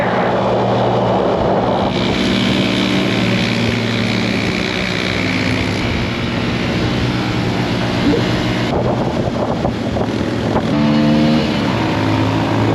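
A motorbike ridden fast along roads in the Vietnamese mountains, its engine a loud, steady drone mixed with rushing wind, rising and dipping slightly across the stretch with no talking.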